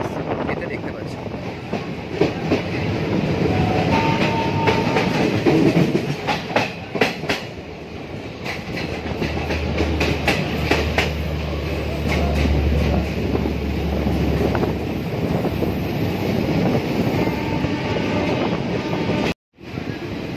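A Kolkata to Digha special passenger train runs along the track with a loud, steady rumble. Wheels clickety-clack and wind buffets the microphone, and the roar drops out briefly near the end.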